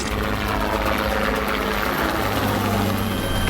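Helicopter flying at high altitude in a military supply setting, a steady loud broadband rotor and engine roar filling the whole stretch, close and continuous with no talk.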